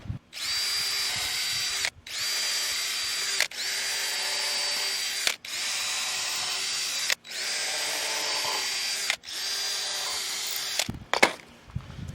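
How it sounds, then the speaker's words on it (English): A power drill pre-drilling screw holes in wood for a camper bed runs in six steady bursts of a few seconds each, close and loud, with brief pauses between, ending in a short clatter. "So I'm gonna pre-drill all of them and then screw them all together"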